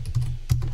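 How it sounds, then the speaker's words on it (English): Computer keyboard typing sounds up close as a quick burst of a few sharp key clicks with a short pause, no talking. "My keyboard doesn't work."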